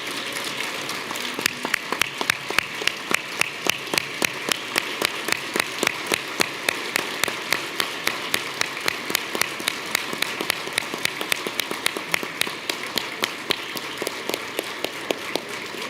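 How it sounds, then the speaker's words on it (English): Audience applause at a banquet honouring distinguished school principals in Missouri, a steady room-filling patter of many hands that keeps going with a regular pulse throughout, with no talking over it. "let's give all our 11 Missouri distinguished principals one more round of applause for their accomplishments"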